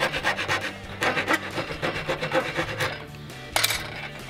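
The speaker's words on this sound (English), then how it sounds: "now I'm gonna take a round file and I'm gonna just" A round file rasps back and forth over a coping cut in wooden trim, steady close strokes in a quick rhythm with a brief clunk near the end.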